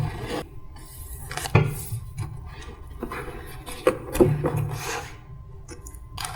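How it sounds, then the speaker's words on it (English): An engine head gasket set is unpacked, producing close rustling, scraping and a few sharp knocks and clatters of the packaging being handled, arriving in irregular bursts. "Okay, we'll open up the gasket set"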